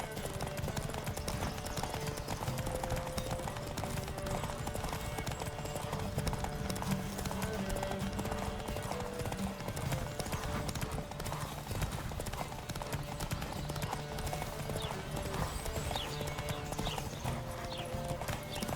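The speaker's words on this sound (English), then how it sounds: "Don't spare the horse!" Horses gallop at speed in a race in The Witcher 3, hooves pounding in a rapid, steady drumming rhythm close up, with game music and occasional voices beneath.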